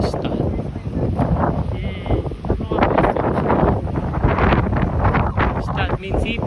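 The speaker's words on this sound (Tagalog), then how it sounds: "Medyo malakas yung alon. Kasi malakas yung hangin." Strong seaside wind beside choppy waves buffets the microphone with a continuous rough, roaring rumble that swells and dips throughout.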